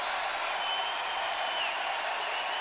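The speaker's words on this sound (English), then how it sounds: "The crowd, you hear the noise, they anticipate, and it's over." A broadcast basketball crowd roars with a dense, steady wall of cheering and applause that stays loud and unbroken from start to finish.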